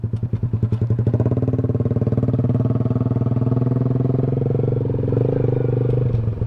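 A motorcycle pulls over and is parked at the roadside, its engine running loud and close with a pulsing mid-pitched putter that steadies into an idle.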